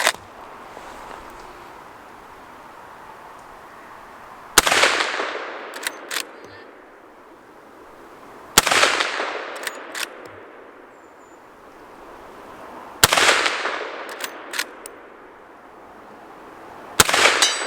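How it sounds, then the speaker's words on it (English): Rifle shots from a Henry Big Boy Brass in .357 Magnum fired at a 100-yard target, four loud, sharp reports spaced several seconds apart, each followed by a decaying outdoor echo and a faint distant impact. "Let's see if we can put some rounds on target."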